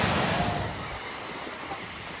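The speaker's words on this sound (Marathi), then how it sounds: "इथून हा त्याचा ओव्हरफ्लो आहे सांडा आहे." Water overflowing the Kas lake spillway on the Kas plateau near Satara during the monsoon makes a dense, continuous rush. It is loud at first, then eases to a steady roar mixed with wind.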